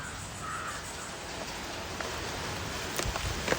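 Rain falls steadily on a home yard in Kerala as a soft, continuous hiss, with a few closer drips and a crow cawing briefly in the distance.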